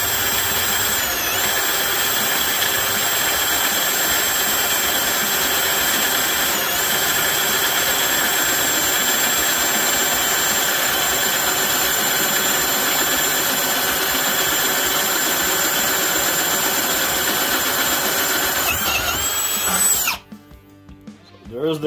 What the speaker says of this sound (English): We're going back to speed 1 to finish those holes here.